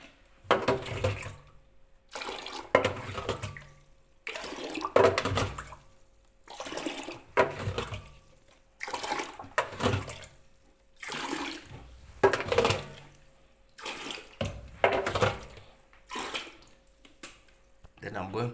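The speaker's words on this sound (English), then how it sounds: "I'm going to slowly empty water on this towel so it will absorb the water." Water drains from an LG washing machine onto a towel laid on a wooden floor, heard as repeated gushing pulses close by, with a person speaking throughout.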